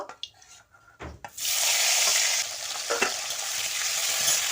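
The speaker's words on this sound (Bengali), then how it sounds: "ওই তেলের মধ্যে আমি কেটে রাখা টমেটোগুলো দিয়ে দেব" Chopped tomatoes hit hot oil left from frying hilsa fish for a Bengali curry, bursting into a loud, steady sizzle after a few quiet kitchen clinks and stirring sounds.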